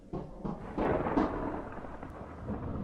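Thunder rumbles on a rainy, lightning-filled night in a horror story, a low rolling roar that builds and then lingers as a steady background rumble.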